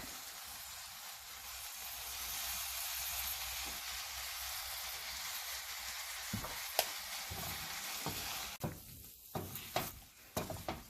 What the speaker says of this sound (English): Give a nice mix after adding the salt